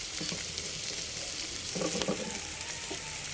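Drained pasta is stirred in a frying pan of hot oil, with a steady low sizzle under soft scraping and tapping from the spoon, close up and without any talk.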